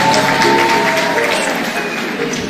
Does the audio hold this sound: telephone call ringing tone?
no